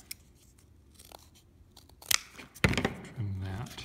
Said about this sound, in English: So let's cut off what we don't need.